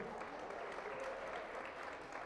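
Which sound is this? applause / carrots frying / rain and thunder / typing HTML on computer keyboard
applause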